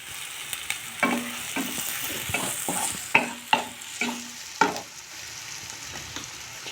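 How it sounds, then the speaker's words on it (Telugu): Turmeric and chili fry in a pan while being stirred for a pasta dish. A soft sizzle runs throughout, with repeated scraping clinks from the spoon against the pan, close up and with no talk. "ఒక 30 సెకండ్స్ పసుపు అనేది వేగనివ్వండి ఇందులో."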